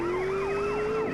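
A loud wailing police siren in GTA San Andreas mobile cycles up and down continuously, close and steady, with an engine hum underneath and no talking.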